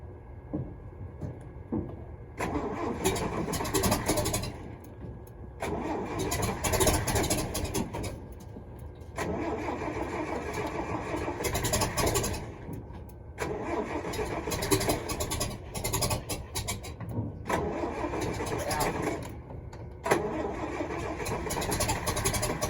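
A firewood truck's engine cranks and catches, then runs in several stretches separated by brief pauses, a steady mid-pitched motor drone heard at moderate level with no talking over it.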